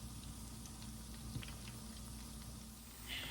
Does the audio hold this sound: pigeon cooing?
no